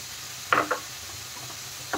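Cabbage is stirred into a sweet corn momo filling in a hot pan over a high flame, giving a couple of brief scraping clatters over a faint steady sizzle.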